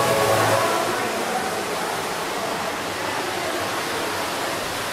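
Ruby Falls, an underground cave waterfall in Chattanooga, Tennessee, gives a loud, steady broadband roar of falling water that fills the cavern without a break.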